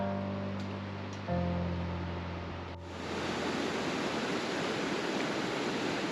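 Icy Brook, a mountain stream in Rocky Mountain National Park, rushing in a steady broadband roar that swells louder partway through, heard close along a hiking trail with no talk.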